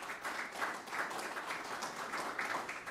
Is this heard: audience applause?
yes